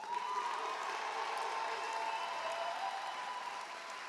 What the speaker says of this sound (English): Our class of 2026 is truly something special. Let's give them a round of applause.